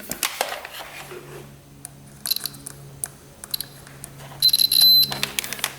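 Quiet clicks and handling noises, then a few short electronic beeps from a multimeter continuity-testing an electric scooter's fuses, with one sustained high beep near the end.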